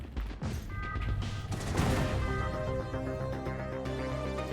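Ship guns fire in the sci-fi strategy game Industries of Titan, giving a dense burst of fusillade-like shots over steady tonal game music and ambience.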